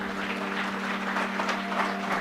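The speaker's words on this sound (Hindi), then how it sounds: "इनके अम्मी अब्बू के लिए भी तालियां बहुत।" An audience at a children's talent show applauding, a dense, steady wash of clapping that holds at an even level throughout without a voice over it.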